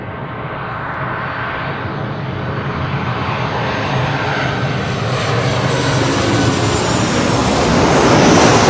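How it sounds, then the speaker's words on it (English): A Delta Airlines Boeing 737-900ER jet arriving at LAX roars steadily with broadband engine noise, growing louder and closer over several seconds with no talk. "Delta Airlines Flight 8809. It's a 737-900ER."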